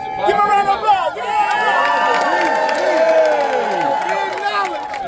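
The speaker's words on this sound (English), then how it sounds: "So, my brother Billy, give him a round of applause." A large crowd applauds and cheers loudly for a speaker named Billy at a gathering at Stone Mountain, with whoops and shouting voices blending into steady clapping that holds for several seconds.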